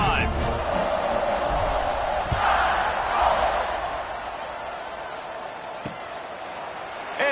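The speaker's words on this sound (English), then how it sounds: "this crowd is feeling themselves after that last drive" A football stadium crowd roars as the kickoff unit takes the field after a scoring drive, a steady broad wash of cheering that fades slightly, with an announcer talking over it.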